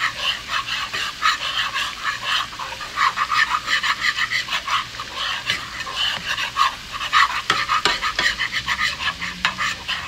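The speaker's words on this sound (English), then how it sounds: "You're gonna take this and keep it stirring because while you want it to be sizzling and bubbling" Swordfish, zucchini and rice sizzle in a pan while being stirred, giving a steady crackling hiss broken by irregular scraping strokes of the utensil, close and fairly loud.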